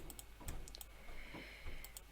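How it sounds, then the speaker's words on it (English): Soft, quick keystrokes on a computer keyboard come in short irregular bursts and light taps. The room is otherwise quiet. "And now I could just type"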